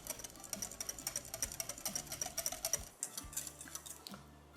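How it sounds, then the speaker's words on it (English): A hand whisk beats oil into orange cake batter for Greek portokalopita, making quick, faint, rhythmic clicks and taps against the bowl that are soft and close. "Finally, whisk in the oil until the batter becomes smooth."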